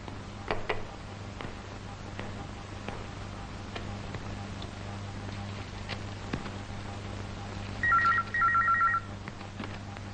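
Over a low steady hum, a telephone gives faint scattered clicks like dialing, then two short bursts of electronic ringing near the end. No voices are heard.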